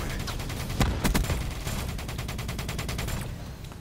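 Rapid automatic gunfire in Call of Duty Black Ops 3 aimed at a mothership, a few heavy bursts followed by a fast, steady stream of shots that fades at the end, loud and without talking.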